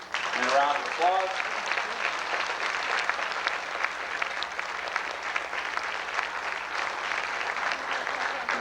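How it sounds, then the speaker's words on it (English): A banquet crowd applauds honorees at a high school athletic awards dinner, steady mass clapping that fills the room, with a few brief voice-like tones near the start. "I'd like to give these people one last big thank you and a round of applause"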